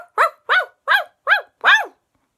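A human voice imitates a ghost dog barking, giving five evenly spaced, clear bark-like calls in a steady rhythm, close and fairly loud, with silence after the last one.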